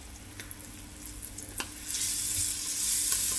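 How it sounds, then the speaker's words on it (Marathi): Mandeli fish sizzling in hot oil as the pieces are turned to the other side, a steady close frying hiss that swells louder toward the end, with a few sharp clinks of a utensil against the pan. "आपण या पीठमध्ये घोळवून घ्यायची आणि फ्राय करायची तेलामध्ये."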